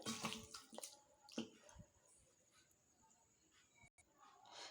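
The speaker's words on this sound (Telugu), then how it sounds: "ఇప్పుడు మనం బియ్యాన్ని కడిగి పెట్టుకుందాం" Rice grains washed by hand in water in a home kitchen while preparing chicken keema rice, with sloshing, splashing water in bursts at the start that thin out to faint trickles and quiet handling.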